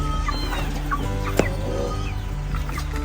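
Chickens and young chicks on a Filipino farm, steady clucking and peeping mixed with a few soft crowing calls and a sharp squawk, close by and continuous with no talking.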